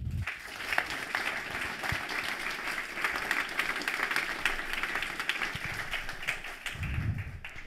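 Sustained audience applause fills an awards ceremony hall, a dense steady patter of many hands clapping close and loud from start to finish, with a few brief low bumps near the start and end.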